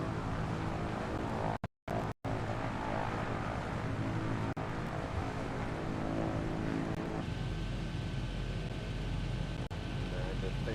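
A light aircraft engine drones steadily in flight at about 85 knots, a loud, continuous tractor-like rumble that fills the cabin, with brief dropouts near two seconds and no talk over it.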